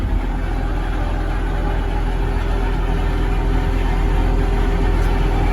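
A Cat IT28G wheel loader's diesel engine runs steadily at idle nearby, a continuous low rumble with a constant mechanical hum and no break in level throughout.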